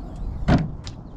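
An outside storage door on a 2020 Airstream Atlas motorhome shuts with a single firm, close clunk as it clicks and seals, followed by faint rattles.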